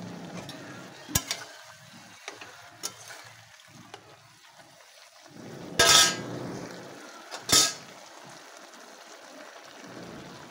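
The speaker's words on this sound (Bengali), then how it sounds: "এবার বেগুনগুলো দিয়ে দিচ্ছি, এবার শাকগুলো দিয়ে দিচ্ছি" Eggplant pieces and spinach added to a hot pan and stirred, with scattered clinks of a utensil on the pan, two louder bursts of splashing sizzle, and a soft frying hiss filling the quieter stretches.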